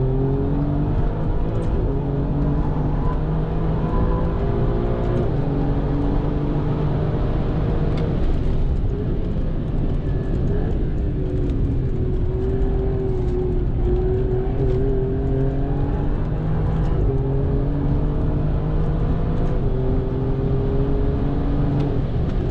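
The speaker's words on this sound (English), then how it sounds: "let's see what full throttle is like on the back straight here" Alfa Romeo Giulia Quadrifoglio at full throttle on a race track, a loud sustained engine roar with rising pitch through the gears and brief dips at shifts, heard from inside the car.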